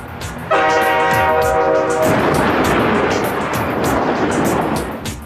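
A loud train horn blares for a couple of seconds as a train leaving a station in Arizona nears a level crossing, then a heavy rumbling roar of rail cars passing close by continues steadily.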